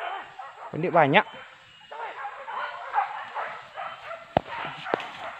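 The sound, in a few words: hunting dogs barking during a wild pig hunt in a swamp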